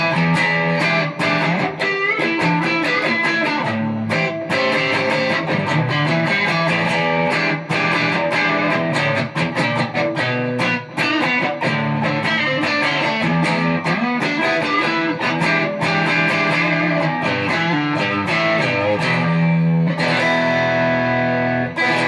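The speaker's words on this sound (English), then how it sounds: "now I'm using a more traditional vintage-like Stratocaster with single coils" A vintage-style Stratocaster with single-coil pickups plays through a TC Electronic DarkMatter distortion pedal, a continuous loud run of distorted strummed chords and riffs with some single-coil hum.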